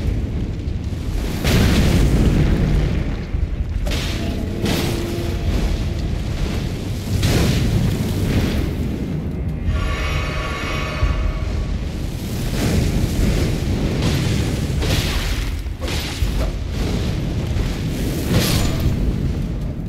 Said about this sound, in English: It seems like it's gotta land on the ground for it to explode.